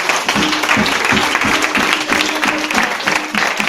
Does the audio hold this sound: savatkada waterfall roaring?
no